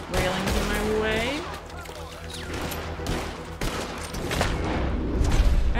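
Gunfire in Red Dead Redemption 2, heard as a dense burst of shots layered under ongoing game sound and a talking voice, with the level holding steady throughout.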